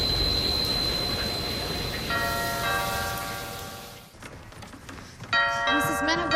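A doorbell chimes in a movie scene, two rounds of clear ringing tones separated by a short gap, with background noise under them and no speech over the chimes.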